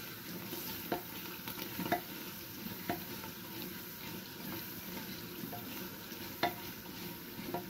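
Cow trotters fry in roasted masala in a cooking pot, a soft, continuous sizzle with occasional stirring knocks at irregular intervals.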